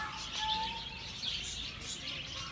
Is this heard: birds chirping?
yes